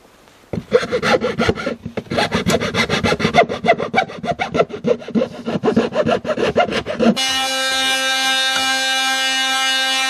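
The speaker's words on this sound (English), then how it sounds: "time to sand it" Wood for an outhouse build is sanded by hand with rapid, rhythmic back-and-forth rasping strokes, loud and close, for about seven seconds, followed by a steady tonal machine hum.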